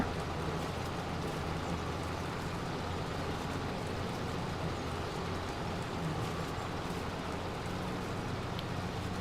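Rain mixed with hail pounds down steadily in Farming Simulator 25, a dense, even hiss of falling drops and pellets with a low rumbling undertone, continuous and fairly loud throughout, with nobody speaking.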